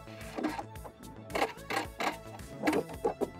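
A sewing machine stitches a seam to repair a tear in chiffon fabric on a dress, running in short bursts of rapid mechanical whirring with brief pauses between them, close and fairly loud.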